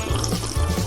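Water pours into a cup in a kitchen, a short, close, steady trickling splash with a gurgling low rumble, heard alone.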